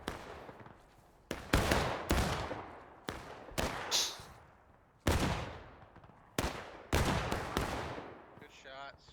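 Musket volleys in the American Civil War game War of Rights, a large battle with hundreds of players: about a dozen loud, sharp shots at irregular intervals, near and far, each leaving a long rolling echo, with faint shouting in places.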